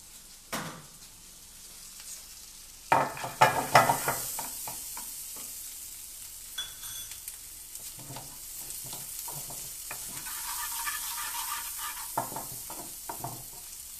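Mixed vegetables, including red and yellow capsicum, sauté in a pan with a constant soft sizzle and repeated bursts of scraping and clattering as they are stirred, alone without talk.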